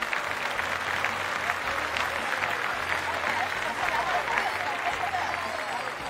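An audience at a school concert applauds warmly, with dense, steady clapping that holds at an even level for the whole stretch.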